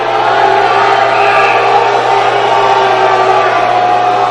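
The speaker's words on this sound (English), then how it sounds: "Fans booing." Hockey crowd at a college men's game, RPI versus Denver, booing a penalty call in a loud sustained rumble of jeers filling the arena without letup.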